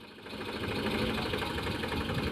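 A tractor engine idles on a farm field during sowing, a steady, loud mechanical rumble with a fine knocking pulse running evenly throughout, no voices over it.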